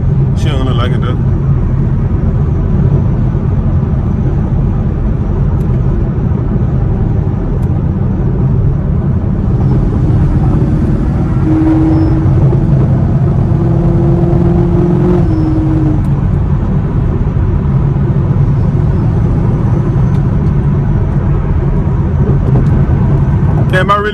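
A Chevrolet Camaro SS drives on the road, its engine a steady low rumble heard from inside the car, with brief rises in pitch as it revs and a voice talking over it.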